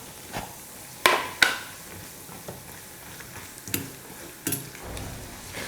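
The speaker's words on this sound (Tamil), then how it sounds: "முந்திரி திராட்சை ரெண்டுமே பார்த்தீங்கன்னா நல்லா வறுபட்டு வந்துருச்சு பாருங்கள்" Cashews and raisins fry in ghee for rava laddu, a soft continuous sizzle with a few sharp spoon scrapes and clatters against the pan at irregular intervals, close by with no voices.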